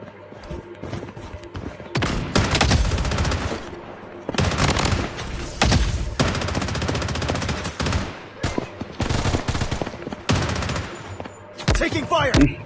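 Automatic weapon fire from the shooter game Blood Strike crackles in loud, sustained bursts separated by short pauses, with a voice briefly audible among the shots.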